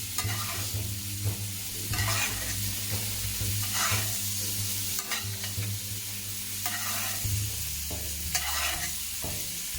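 A halal steak bastes in melted butter in a hot pan, with continuous close sizzling and repeated scraping bursts of a spoon ladling the fat over the meat, over a low steady hum.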